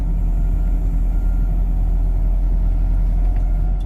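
A John Deere 50G mini excavator's diesel engine idles and runs with a steady, low rumble, close and constant throughout without pauses or talking, at a pond work site.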